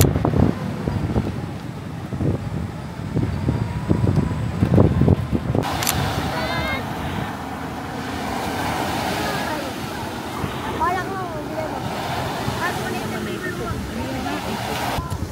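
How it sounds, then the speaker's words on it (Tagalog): Strong wind buffets the microphone with roaring gusts at Puka Beach, Boracay, surf rushing in the background, while voices talk and call out at times. "Sobrang hangin."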